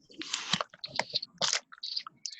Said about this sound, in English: I was trying to put something in an Amazon envelope